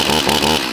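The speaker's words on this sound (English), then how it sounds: "Got my trusty Farm Boss steel chainsaw here." A Farm Boss steel chainsaw roars close up at a steady, loud pitch just after starting, its engine buzzing continuously with a slight wavering rhythm and no voices.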